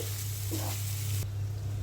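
Sweet pumpkin pieces sizzle in oil in a pan, a steady close frying hiss over a low hum, with a brief clatter partway through.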